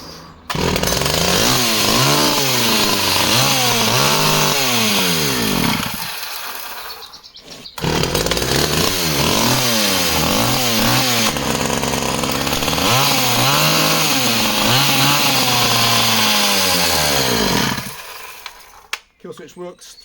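A Stihl 009 top handle chainsaw that starts but runs poorly, apparently starved of fuel, revving loudly and unevenly up and down near the mic, with a brief drop partway and a stop near the end.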